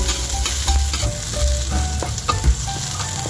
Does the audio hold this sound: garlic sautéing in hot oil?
yes